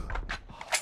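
A gun is reloaded in a video game, a quick run of two or three close, crisp mechanical clicks and clacks lasting under a second.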